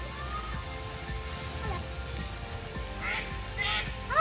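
Ducks on a farm quacking as they are fed, a busy run of overlapping quacks and honking calls, with a voice partly over them.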